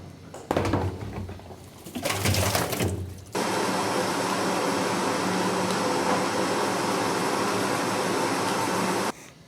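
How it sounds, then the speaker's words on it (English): Electric meat grinder pushing lean meat through for the first of three passes, a steady loud mechanical whir that runs unbroken for several seconds after a few shorter bursts of handling noise. "Now we're going to add the lean and grind this through 3 times."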